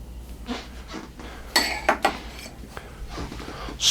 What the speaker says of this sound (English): Get a pan heated up over here.